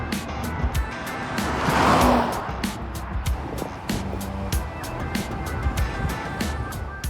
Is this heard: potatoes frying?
no